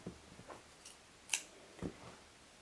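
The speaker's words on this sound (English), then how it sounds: "Just snip that a little bit shorter." Scissors snip green yarn at a loom-knitting project, giving a few faint, quiet clicks spread over a couple of seconds, one crisper snip standing out in the middle, with no talking.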